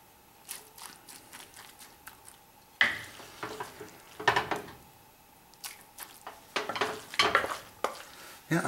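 A cooked meat, carrot and onion mixture being scooped and spread into a dish as the first layer of a shepherd's pie, with soft scraping, spoon clinks and wet stirring sounds in short bursts.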